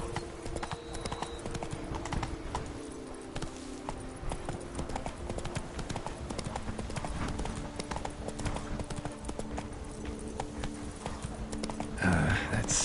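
A horse gallops in The Witcher 3: Wild Hunt, Blood and Wine, with steady rapid hoofbeats under continuous game ambience and music, moderately loud throughout, and a brief louder burst near the end.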